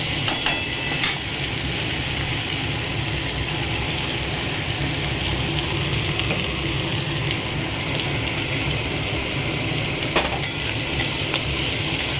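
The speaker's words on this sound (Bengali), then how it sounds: "গাজরটা না সিদ্ধ হওয়া পর্যন্ত ভেজে নেবো ভালো করে বন্ধুরা" Grated carrots frying in oil for fried rice, a steady soft sizzle with occasional scraping of a spatula as they are stirred, continuous and close.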